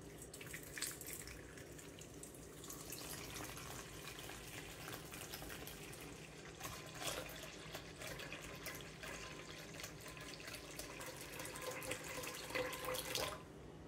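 Water is poured steadily from a tap for sunflower seed bread dough, a faint, continuous trickle with small drips and splashes running throughout, close by and without talk.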